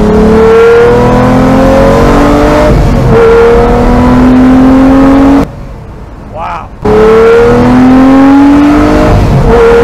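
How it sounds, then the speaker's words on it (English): Loud Mercedes car engine revving up and down in rising sweeps, close and continuous, with a short quiet gap before the roaring resumes. "it sounds like an old school car"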